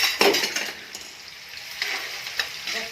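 Ground coriander and chili tipped into onions frying in a pan, a bright steady sizzle with stirring scrapes and a few light clinks, close and without speech.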